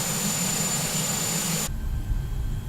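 A Shorts 330 airliner taxis in the MSFS2020 flight simulator, its engines giving a steady loud broadband roar and hiss that abruptly shifts to a deeper, duller rumble partway through.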